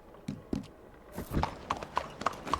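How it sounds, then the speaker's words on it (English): A horse's hooves clip-clop in Red Dead Redemption 2, a few soft thuds followed by sharper, irregular steps close by and fairly quiet, with no voices. "¿este es mi caballo?"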